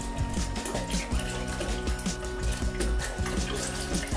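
Sugar being stirred into Kool-Aid in a pitcher, a steady sloshing, swirling liquid sound with faint clinks, continuous and close throughout.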